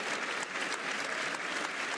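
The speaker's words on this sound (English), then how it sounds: "the people you hear clapping are the heroes" Dense applause from many people fills a hall in the European Parliament, a steady, even roar of clapping heard from a distance with no break.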